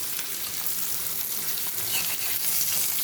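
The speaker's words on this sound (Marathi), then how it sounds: "बघा फ्रेंड कसे मासे परताय लागले" Fish frying in a pan, a steady even sizzle and hiss from hot oil, moderately close, with faint stirring movement and no speech.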